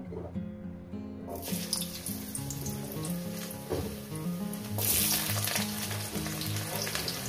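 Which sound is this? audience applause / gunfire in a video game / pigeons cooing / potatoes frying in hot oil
potatoes frying in hot oil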